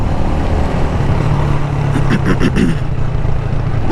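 Motorcycle engine droning loudly and steadily during a ride with gear changes, with wind rush and a brief flutter of engine pulses partway through.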